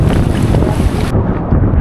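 Strong northeast Amihan monsoon wind at sea buffets the microphone in a loud, continuous rushing roar over a small boat, easing abruptly about halfway through before gusting again.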